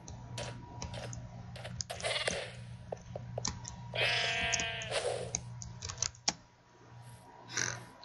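A sheep in the video game Minecraft gives a single faint bleat in the middle, surrounded by soft clicks and taps like keyboard typing.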